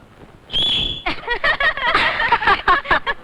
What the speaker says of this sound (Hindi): लड़की सीटी बजाती है